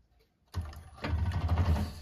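A 1341 cylinder arm sewing machine starts abruptly after a short silence and stitches through thick bag layers in a rapid, close mechanical chatter that grows louder and stays steady.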